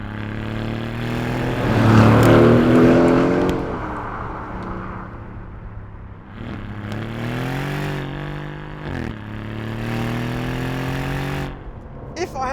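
An Aston Martin Vantage Roadster's engine revs hard and loud, climbing through the gears with rising, falling pitch and brief gaps at the shifts, then pulling strongly again.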